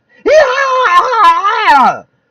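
A single voice imitates hysterical screaming: one loud, close, wavering wail that rises and falls for about two seconds before cutting off abruptly into silence.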